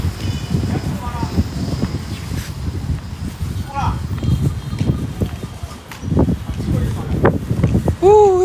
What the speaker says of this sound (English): Ooh, it's like it's so windy.